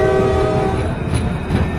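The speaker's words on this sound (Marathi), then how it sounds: "mini train" Resort mini train at Aryan Eco Resort sounding its horn in a sustained tone over the rolling rumble of the small train, close and fairly loud, with no talking.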